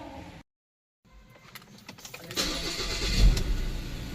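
A Ford Everest engine cranks after a fuel filter bleed, catches and settles into a steady, rising idle, loud and close with no talk over it.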